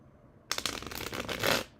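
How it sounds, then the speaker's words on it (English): A tarot deck shuffled close up, a short burst of rapid riffling card flutter that builds and then stops, with quiet room tone before and after. "let me shuffle"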